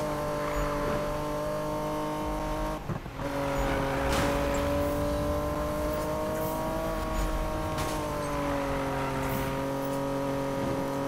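A racing car engine in a Need for Speed video game drones steadily and loudly throughout, holding a sustained revving pitch with slight rises and falls and a momentary break early on.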